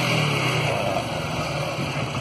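Apache motorcycle engine droning steadily nearby, a continuous loud hum with no voices.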